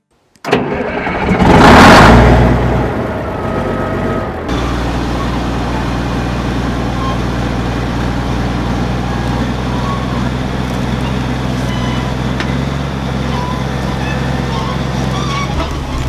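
A 1982 Komatsu D65E-6 bulldozer diesel engine cranks and fires, surging loudly for a couple of seconds before settling into a steady, rumbling idle that runs on alone.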